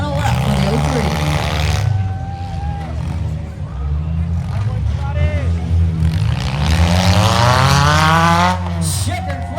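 Democross race cars roar around a county fair dirt track on the final lap, engines loud and close, pitch sweeping up and down as they pass, with crowd babble and an announcer's voice underneath.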